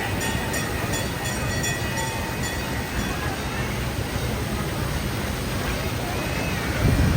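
A train rumbles past continuously, a dense low roar with clattering wheels and a high steady whine, heard up close with faint talk.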